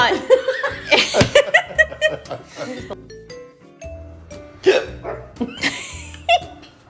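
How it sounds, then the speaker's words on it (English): A person lets out an odd, spasmodic hiccup, a short jolting gulp caught among bursts of laughter and chatter from several people nearby. "I have like that weird hiccup"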